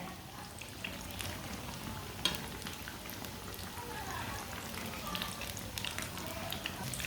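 A cheese sandwich pakora fries in a pan with a steady, close sizzle and crackle that holds at an even level throughout, with no talk over it.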